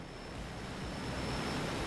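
A small propeller plane in the Payday 2 video game gives off a continuous rushing drone, fairly loud and steady, with no talk over it.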